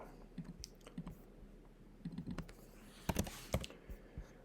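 Keys clatter on a computer keyboard in quiet, irregular bursts of typing, with short pauses between clusters and a denser flurry of clicks near the end.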